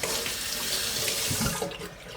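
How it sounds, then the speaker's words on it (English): Tap water running over hands at a kitchen sink while kneading sticky condensed milk bread dough, a loud steady splashing rush that cuts off near the end, no talking. "Wash water on my hand."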